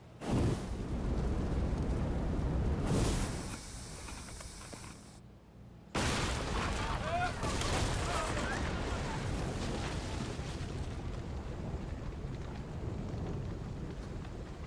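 Ship cannons firing in the Assassin's Creed Odyssey game, heavy booming blasts and rumbling roar with a short lull midway, then continued thundering barrage, loud and dense, with voices faintly beneath.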